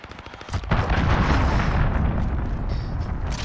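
A cruise missile strike in Call of Duty Modern Warfare lands as a sudden loud explosion after a brief ticking lead-in, then a sustained heavy rumbling roar that lingers for several seconds.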